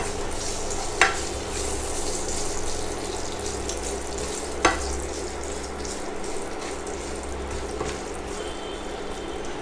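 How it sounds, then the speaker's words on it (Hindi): Fenugreek seeds, cinnamon, cloves, asafoetida and curry leaves sauté in hot oil for Gujarati dal dhokli, a steady close sizzle broken by two sharp metallic taps of a stirring spoon. "अब इनको हम कुछ सेकंड्स के लिए सौटे करेंगे।"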